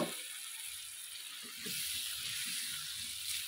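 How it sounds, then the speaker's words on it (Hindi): Potato pieces sizzle in hot oil in a pan while an aloo baingan curry is cooked. A steady hiss fills the whole stretch and swells slightly partway through, with faint clicks and crackles underneath and no talking. "अब इसमें आलू डालेंगे।"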